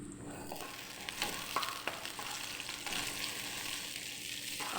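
Bay leaves and whole peppercorns sauté in oil for a chicken menudo, giving a soft, steady sizzle with light stirring clicks throughout and no talking.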